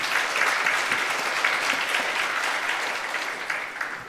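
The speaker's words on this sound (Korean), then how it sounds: "또 박수로 환영하겠습니다" Church congregation applauding a visiting provincial councillor at a service, a dense, steady round of clapping from many hands that holds evenly for several seconds before easing slightly.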